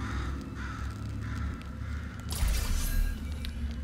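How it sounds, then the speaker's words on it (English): A bird caws a few times in a Portal 2 game scene, with a steady low hum and rumble underneath and a louder surge near the end. "Is that a bird?"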